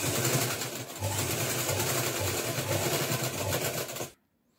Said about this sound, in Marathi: बेल्ट जो केला आहे त्यावर आता मी टिप मारून घेत आहे.